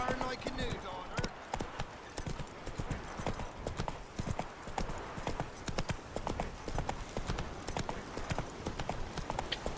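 Roach the horse's hooves clip-clopping in a steady, quick rhythm in The Witcher 3, the game sound running throughout beneath a voice talking over it.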